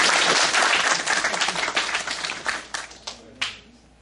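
An audience at a pfSense tech talk during a bootcamp in Xanxerê breaks into applause that starts dense and loud, then thins to a few scattered claps before fading out.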